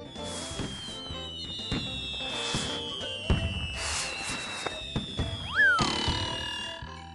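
Cartoon fireworks in the JumpStart 1st Grade educational computer game go off in a series of soft bursts and bright whistling swoops, with light thumps in between, over quiet game music.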